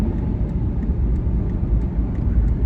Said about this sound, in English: Man, we're driving an Aston Martin.